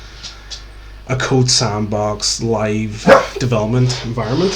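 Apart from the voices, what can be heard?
dog barking in the background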